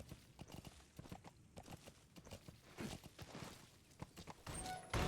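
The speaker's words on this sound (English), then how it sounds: "Horsey." In the Metal Gear Solid 5 game, a horse's hooves clip-clop in a quick, uneven walking rhythm, soft and fairly close, with a brief louder thump at the end.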